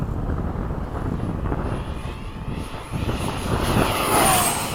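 An FMS 70mm F/A-18 model jet makes a fast pass with its flaps down in breezy conditions, giving a steady ducted-fan whoosh that swells near the end, with wind buffeting the microphone throughout.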